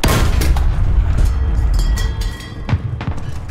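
Cannon fire from a 1938 T-28 tank in War Thunder ground realistic battles, with heavy booming shots and thuds repeating over a constant loud engine rumble, a couple of sharper reports standing out near the end.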